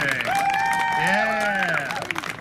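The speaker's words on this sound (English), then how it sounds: "give her a nice warm round of applause" A crowd applauds and cheers for a fighter at an armoured combat tournament, with steady clapping beneath overlapping voices that rise and fall nearby.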